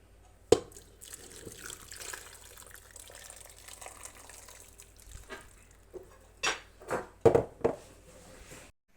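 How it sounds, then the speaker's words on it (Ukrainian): Boiled water poured over ketchup trickles and splashes in short, irregular bursts, with a few sharper spills near the end, fairly close and alone without talk. "І будемо заливати кип'яточком, кип'яченою водою."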